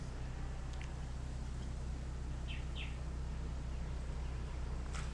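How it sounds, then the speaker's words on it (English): Small birds chirp in a few short, faint calls above a steady, loud low engine hum near the shore of a Caribbean island. "Ooh, the birds are happy."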